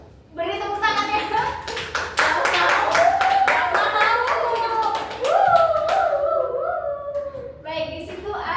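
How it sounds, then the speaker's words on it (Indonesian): Children clapping in a classroom during a fractions microteaching lesson: a burst of rhythmic, uneven claps under lively, overlapping young voices, with the clapping fading as the talk continues. "Beri tepuk tangan ya"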